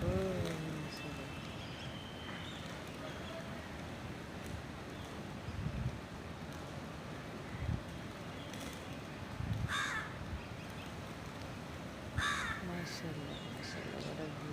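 Crows caw in short bursts over steady wind and outdoor noise as a flock gathers to feed, calls spaced a few seconds apart at middle distance, with someone talking quietly at times.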